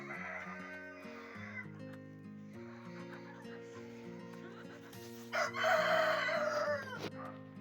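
A rooster crows loudly once partway through, over a steady background hum and faint farmyard clucking.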